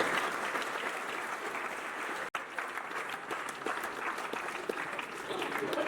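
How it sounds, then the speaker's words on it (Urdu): A large audience at a motivational talk on leadership at Cadet College Faisalabad bursts into dense, sustained applause, with one brief cut partway through and faint voices underneath. "اپنے لیے بھی تالیاں بجائیے نا."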